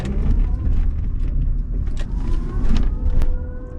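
A Wheego electric car groans while driving on a highway, with a low continuous road rumble and faint rising whine tones that shift pitch, plus a brief sharp click near the end.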